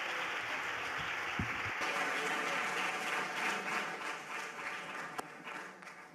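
Applause at a 2017 film festival press conference honoring a Donostia Award winner, a soft, steady clapping from the room that carries on for several seconds, with a couple of sharp knocks partway through.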